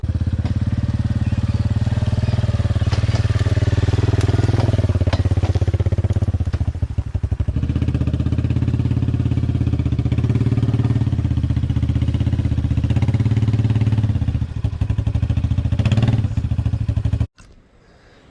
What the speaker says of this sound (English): let's go ahead and drive out of the woods here and see how the four-wheeler pulls it